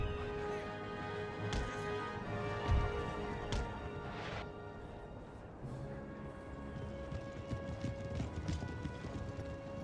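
Provincial cavalry in the Empire Total War battle game, clip-clopping hooves beating steadily with occasional sharp crashes and a faint whinny, a busy mix of battlefield sounds at moderate level.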